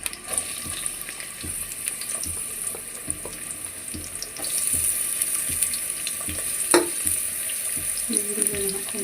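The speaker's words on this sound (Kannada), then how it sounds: "ಈರುಳ್ಳಿ ಹಾಕೊಂಡಿದ್ದೀನಿ. ಚೆನ್ನಾಗಿ ಫ್ರೈ ಮಾಡ್ಕೊಳ್ಳೋಣ." Chopped onions sizzle in oil in a pan for methi pulao, a steady close crackle with occasional stirring clinks and a faint rise in intensity midway.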